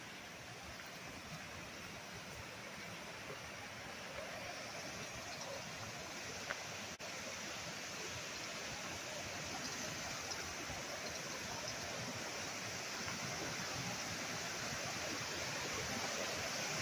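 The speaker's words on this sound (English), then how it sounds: "This waterfall is magnificent." A waterfall in Sessions Woods Wildlife Management Area near Bristol rushes in a steady, dense roar of falling water. The sound is continuous and unbroken from start to finish, with no voices over it.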